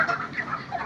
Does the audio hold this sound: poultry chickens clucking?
yes